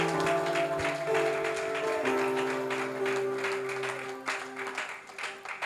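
A church congregation applauds during a Sunday worship service, a dense, sustained patter of many hands over held musical tones, thinning slightly toward the end.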